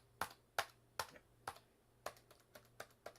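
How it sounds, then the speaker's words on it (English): Keys on a computer keyboard clack in a loose, uneven rhythm, about nine crisp taps heard close and quiet with no talking. "I am typing in things that have no business."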